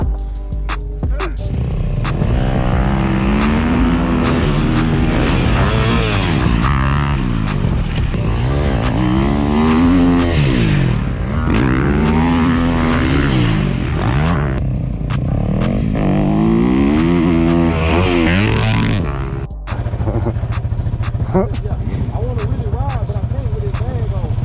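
Dirt bike engine revving and surging through a riding session on a motocross track, loud and close throughout with rising and falling pitch, a brief dip near the end, and people talking over it.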